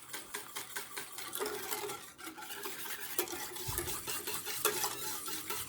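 A spoon scrapes and stirs quickly and steadily through water and sugar syrup cooking in a pot, producing a dense, rhythmic, close clatter that runs continuously without talk.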